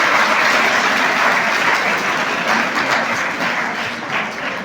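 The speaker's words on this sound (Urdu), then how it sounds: "تالی بجائیں اس پہ انشاءاللہ کے ساتھ۔" Applause from an audience of schoolchildren fills the room, a steady dense clapping that holds loud throughout and tapers only slightly near the end, with no talk over it.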